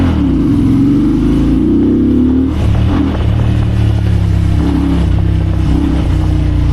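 A VOGE sports cruiser motorcycle engine revs while riding, a loud, continuous close engine drone that climbs in pitch, dips, then holds a rough, steady note.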